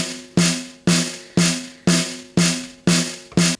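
Snare drum captured with top and bottom microphones summed together, seven sharp, evenly spaced hits with a ringing tone that decays between strikes, close and loud with no talk.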